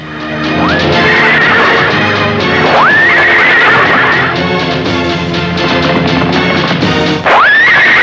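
Horse in a 1992 Pakistani film scene, loud close neighing in repeated rising whinnies, with hoof clip-clops and a crash-like clatter around them, no talk.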